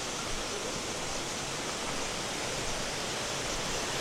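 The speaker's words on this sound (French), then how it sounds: "et la cascade dans le fond." Steady broadband rush of a waterfall in Harau valley, Sumatra, heard from some distance as a constant hiss with no breaks or distinct voices throughout.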